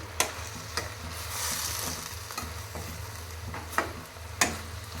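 Grated carrot and mixed vegetables for a fenugreek-leaf palya are stirred in a frying pan, a steady sizzle broken by several sharp scrapes and clacks of the spoon against the pan, close and alone with no talk.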